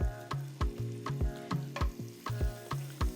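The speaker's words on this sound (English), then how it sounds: "And look at that sizzle. That butter is melting nicely." Butter melting and sizzling in a hot pan for shrimp, heard as close, rhythmic bursts of frying, about nine quick pulses in a steady pattern.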